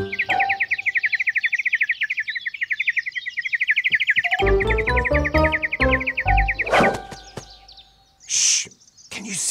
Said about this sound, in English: More quietly, please, bird.